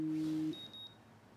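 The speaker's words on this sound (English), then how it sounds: "That's a good alarm though." An alarm in the Life Is Strange video game: a steady electronic tone cuts off, then a few quick, faint, high beeps follow in a short run, with no talk.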